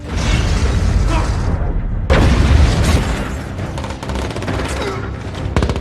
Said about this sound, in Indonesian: Lalu kemudian ledakan terjadi.